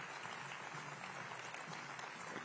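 Audience applause at a political party conference, a dense sustained clapping that fills the hall steadily and evenly from start to finish, with no voices heard over it.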